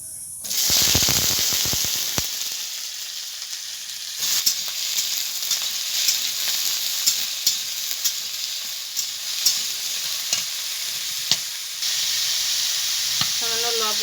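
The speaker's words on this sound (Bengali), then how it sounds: "এবার আমি আলুটাকে ভেজে নেব।" Potatoes dropped into hot mustard oil in a wok, a sudden loud burst of hissing sizzle that settles into a sustained close frying crackle with occasional stirring clicks and pops.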